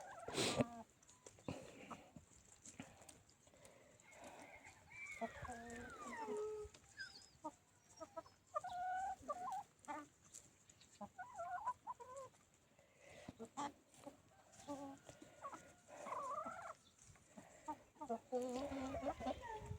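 Farmyard chickens cluck and squawk as they peck at pumpkins, the calls irregular and close, mixed with someone talking in between and occasional other animal noise in the background.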